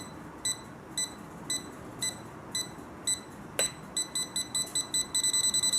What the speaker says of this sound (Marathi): हा स्विच ऑन केल्याबरोबरच आपल्याला बीपचा साऊंड जास्त होताना दिसतंय